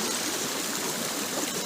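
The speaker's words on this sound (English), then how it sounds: "There is one more water stream there." A forest water stream near Mumbai rushes steadily and fairly loudly, a broad continuous hiss of flowing water with no talk over it.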